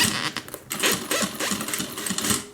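A sewing machine runs a long tack-on stitch on fabric for a homemade airliner cabin bag, whirring in short uneven bursts with brief pauses and mechanical clatter, close and fairly loud.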